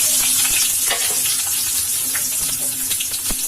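Onion paste frying in hot oil for a kidney bean palya in a village kitchen, a steady close hiss of sizzling with occasional stirring scrapes and clicks throughout.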